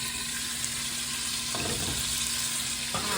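Pork chops browning in a hot pan give off a steady, close sizzle and fry, with a couple of brief clatters as the meat is moved or turned.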